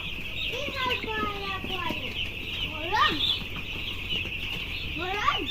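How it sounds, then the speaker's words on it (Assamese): Broiler chicks cheep in repeated high, falling chirps, close and fairly loud over a constant background hum, with a voice briefly heard among them. "হাঁহ নহয় ব্ৰইলাৰ পোৱালি"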